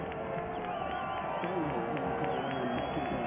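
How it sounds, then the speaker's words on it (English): A loud high school football crowd at a regional playoff game roars and cheers continuously in the background, under a commentator's steady talk. "The Elder crowd being loud. You can hear them through our mic."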